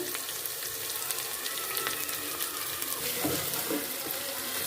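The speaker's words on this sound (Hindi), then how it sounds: "अब इसमें हम ये लहसुन अदरक और ये मिर्ची कुटी वो डाल लेंगे और इसको भी हम फ्राई कर लेंगे अच्छे से।" Garlic, ginger and crushed chili sizzle steadily in hot oil with browned onions, a continuous close frying hiss for a karela chicken dish, with a few faint scraping stirs.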